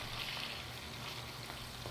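Pieces of rohu fish frying in hot oil in a home kitchen, a soft, steady sizzle that runs on without pause and stays faint and close.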